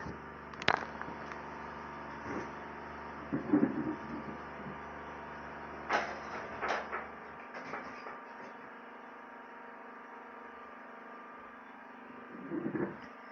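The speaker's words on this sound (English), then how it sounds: "Let me try to shut my door." A door being shut indoors: a few sharp knocks and thuds stand out over a steady room hum, with scattered quieter bumps between them.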